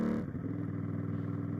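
Monotonous engine drone from a motorbike on a trip through the northwest of Groningen, a steady close-up hum with a regular pulsing beat and no pauses.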